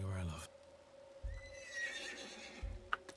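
A horse in the video game The Séance of Blake Manor whinnies faintly, with soft hoof clops and a low ambient hum underneath; brief talk is heard near the start.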